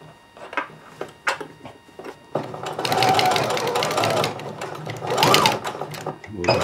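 Sewing machine stitching a seam on a pair of shorts: a few short ticking stitches, then a sustained fast whirring run, close and loud, with a voice talking over it.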